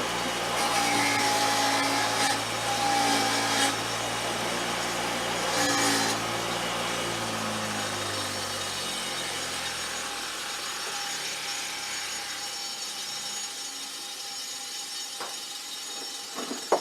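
Wire brush scrubbing rust off rear drum brake parts from a K5 Chevy Blazer, a continuous close rasping scrape with a powered whir that fades out toward the end.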